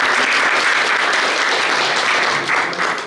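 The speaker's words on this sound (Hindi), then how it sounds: "मैं चाहूँगा कि मैडम के लिए एक बार ताली बजा जाए" An audience applauds at a retirement ceremony held for an employee of Mahanagar Telephone Nigam Ltd (MTNL): a loud, dense burst of many people clapping together, holding steady and then tapering slightly near the end.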